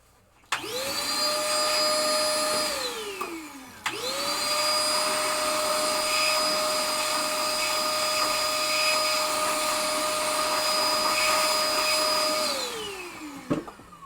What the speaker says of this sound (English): Powder all over my vacuum.